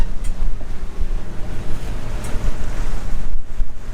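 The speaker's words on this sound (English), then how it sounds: "we got 20 knots of wind right now" Strong wind roars across the microphone over rushing waves beside a sailboat under sail in 20 knots of wind, a loud, continuous, gusting wash with no voices.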